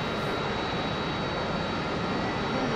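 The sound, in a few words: aircraft engine starting up in DCS World video game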